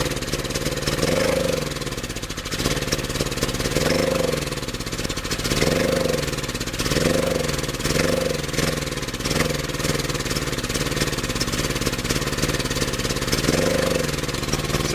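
A homemade wood-gas-fuelled engine runs steadily at idle, its low mechanical drone ticking along with a loose, recurring pulse, fairly close and unbroken for the whole stretch.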